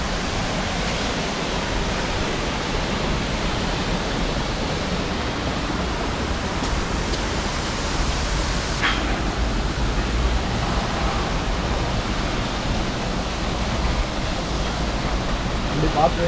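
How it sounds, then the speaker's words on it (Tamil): A waterfall near Munnar, Kerala, gives a steady, dense roar of rushing water that fills the whole stretch without a break. "முதல் அட்வென்ச்சர் வாட்டர் ஃபால்."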